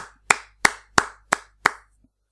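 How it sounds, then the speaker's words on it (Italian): One person gives five sharp, evenly spaced hand claps, each a crisp close slap with a short decay, then stops, with quiet in between and no talk. "Applausi, applausi, applausi per Ambu."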